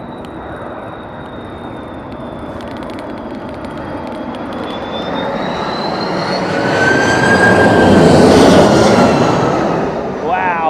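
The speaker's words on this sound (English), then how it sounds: "Big power up from those CF6s." Airliner CF6 engines spool up to high power in strong winds at Heathrow, a broad roar swelling with a rising whine, loud and steady, peaking near the end before easing slightly.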